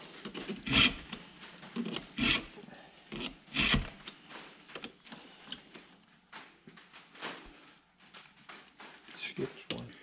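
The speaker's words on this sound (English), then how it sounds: "So how many years would you say you've been sharpening chainsaws?" Hand file sharpening a chainsaw chain, a series of rasping scrapes in an irregular rhythm of short strokes, moderately close, with people talking over it.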